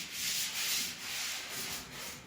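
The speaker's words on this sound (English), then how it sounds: "Let's get some of that rust off of there." Rust is sanded off the body of a VW 21 Window Bus, a close, loud abrasive scrubbing in rhythmic back-and-forth strokes, swelling and easing about twice a second.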